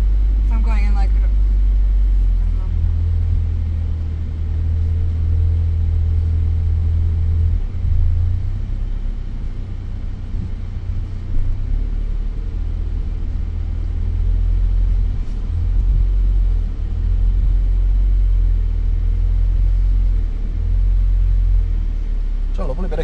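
A diesel car picks up speed on the road, with a heavy, continuous low engine rumble and road noise filling the cabin and a few brief knocks along the way.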